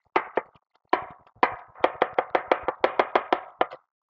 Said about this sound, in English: So we're going to push that into a little pile and just keep on chopping.